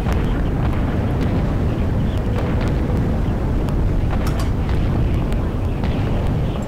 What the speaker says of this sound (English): Lots of lovely explosions.